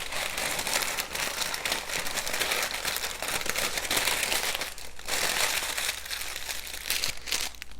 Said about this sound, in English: you're gonna go ahead and wrap it in parchment paper first